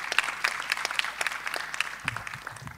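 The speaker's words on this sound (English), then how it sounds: "Welcome her, please, with a warm applause." An audience at the IFLA World Library and Information Congress 2018 President's Session applauds with dense, steady clapping across the room, fairly loud and without voices.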